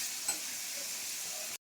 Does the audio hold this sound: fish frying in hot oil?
yes